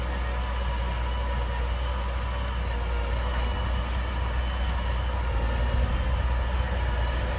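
John Deere 8335R tractor running driverless while pulling a subsoiler through a field, its heavy diesel engine giving a steady, continuous low drone with a broad mechanical rumble throughout, no voices.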